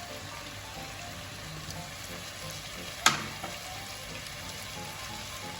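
Chopped tomatoes cook in a hot pan for tawa chicken tikka masala, giving a steady, close sizzle and frying hiss with one sharp clatter partway through.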